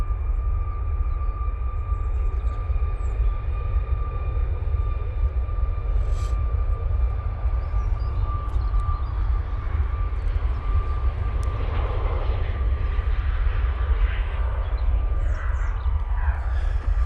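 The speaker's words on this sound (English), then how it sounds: "that TUI is now on the roll." Under a continuous tonal engine whine, a TUI airliner takes off at Manchester Airport, its low rumble staying strong and fairly close throughout, with faint higher tones drifting through and no voices.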